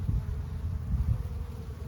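Honeybees buzzing close by in a continuous low drone on a warm February day, a steady hum of many foraging insects without voices.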